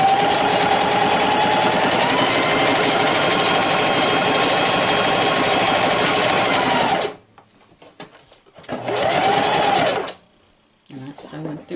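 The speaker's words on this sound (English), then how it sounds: "And that's sewing through all those layers very well" A Singer 4423 sewing machine with a size 12 needle stitches through several layers of denim in a loud, steady, rapid whir for about seven seconds, then stops and runs again in a shorter burst.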